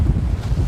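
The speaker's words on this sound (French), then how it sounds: "Tu te calmes le vent." Outdoor wind buffets the microphone in a loud, low rumbling roar that gusts unevenly for under a second, with no talk.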